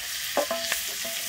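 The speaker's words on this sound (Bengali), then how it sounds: "আমার চিংড়ি মাছটা মোটামুটি ভাজা হয়ে গেছে" Shrimp fries in oil with a soft sizzle, and two or three quick clinks and scrapes of stirring sound close by in a brief moment without talk.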